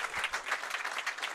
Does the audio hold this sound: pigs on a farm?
no